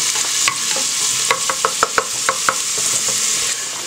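Onion fries in a little oil for cabbage rolls, a loud steady sizzle up close, punctuated by a run of quick clicking taps from a utensil stirring against the pan.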